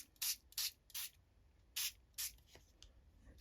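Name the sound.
spray bottle spraying water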